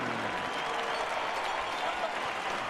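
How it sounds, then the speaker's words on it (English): Arena crowd applause and cheering after a five-round MMA championship bout, a thick, continuous roar of clapping and crowd noise. "they both deserve a round of applause. Gilbert Melendez and Josh Thompson."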